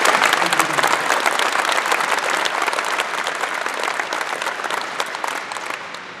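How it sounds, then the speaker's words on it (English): Audience applause honoring Major Leonard Gonzalez, an Air Force Cross recipient, at a Vietnam War commemoration, loud dense clapping that holds steady and slowly fades toward the end. "So if you could give a round of applause to Major."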